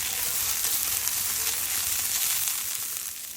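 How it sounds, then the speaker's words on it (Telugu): Garlic cloves fry in hot oil for a beetroot fry with curry leaf and chana dal powders, giving an even, continuous close sizzle throughout. "ఇప్పుడు కొన్ని వెల్లుల్లి రెబ్బలు వేస్తాను. కొంచెం ఫ్రై చేసుకోవాలి."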